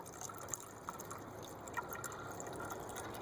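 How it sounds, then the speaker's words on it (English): Quiet, continuous flow of water poured into the radiator of a 2004 Jeep Liberty 3.7L, with occasional small drips and gurgles, close by and low in level. "I do feel fairly okay about pouring a little bit of water right in the hole"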